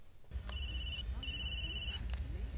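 A mobile phone ringtone rings inside an airplane cabin, two clear electronic trilling bursts over steady low engine rumble, moderately loud and close.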